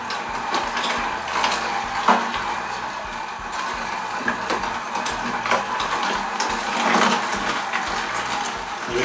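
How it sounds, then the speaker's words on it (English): A slow-turning Hurom juicer grinds through hard carrot pieces, giving continuous mechanical crunching and ratcheting with irregular clicks, close and steady throughout. "though it's a slow turning juicer, it's still going pretty fast. Getting through those carrots."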